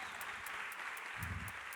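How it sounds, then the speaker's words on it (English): A studio audience claps steadily in a brief, dense burst of applause, moderately loud, with no voices. "Worthy of applause."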